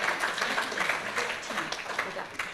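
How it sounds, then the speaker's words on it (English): An audience at a business awards ceremony gives a winner a round of applause, with brisk, moderately dense clapping and a voice briefly heard over it. "Round of applause."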